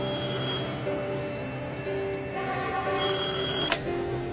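A phone rings during a call from a wife, an electronic trilling tone looping over a steady hum of shop background noise, with a brief sharp click near the end.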